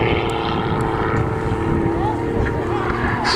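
A Pitts Special aerobatic biplane at an airshow throws in rolls and tumbles, its propeller engine a steady, loud drone with shifting pitch, accompanied by wind noise and a commentator talking over it.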